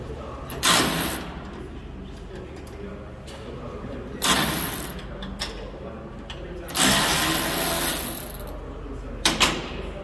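A Ryobi 18V One+ cordless ratchet runs in three separate whirring bursts of a few seconds each, close and fairly loud over a quiet background, working a tight nut.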